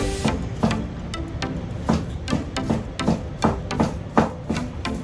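A knife chops ham finely on a cutting board for a white sauce in an eggplant lasagna, giving steady, fairly close, evenly spaced thuds about two per second.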